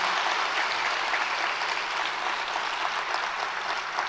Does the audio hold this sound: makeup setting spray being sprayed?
no